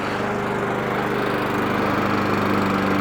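A Masport Rotarola lawn mower engine runs steadily and loudly up close, a constant throbbing drone with no voices over it.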